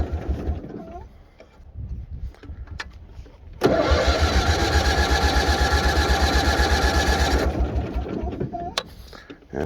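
A flooded Bolens HT-23 lawn tractor engine cranks hard for about four seconds with a fast, steady, loud chugging rhythm, then stops. Quieter clicks and handling noises come before and after.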